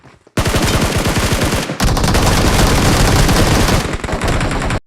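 Rapid automatic gunfire rattles loudly in a battle royale video game as enemies are knocked down, two dense bursts of fire with a short break between them and no talk.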